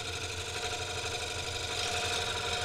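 Lathe running steadily while a tool cuts the irregular edge of a green wood bowl, producing a continuous buzzing whir with a rough, uneven scraping texture and no pauses.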